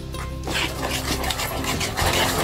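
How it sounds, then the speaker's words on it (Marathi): A spoon stirring a thick mango, coconut and sugar mixture in a pan over the flame, with continuous scraping and rubbing close by and a few sharper knocks, no talking. "2-3 मिनिटं हे मिक्स करून चमच्याने फिरवलंय।"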